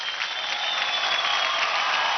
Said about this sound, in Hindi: धमाकेदार तालियां बजाइए हमारे सुपर ड्रामेबाज के ग्रुप एक्ट मोगली के लिए